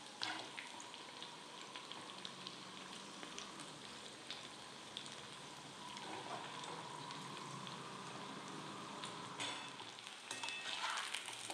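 Potato roll samosas frying in oil on low heat, a steady, continuous bubbling sizzle with fine crackles that holds throughout at moderate level, no voices.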